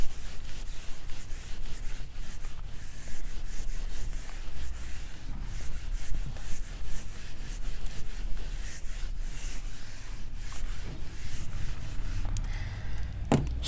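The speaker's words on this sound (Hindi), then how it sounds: "तो ये मैं आपको यहाँ पे रब करता हूँ" Steady scratchy rubbing of an eraser or duster wiping writing off a board during a calculus lecture, continuous back-and-forth strokes close and fairly loud, with a brief knock at the end.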